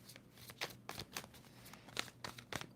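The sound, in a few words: shuffling a tarot card deck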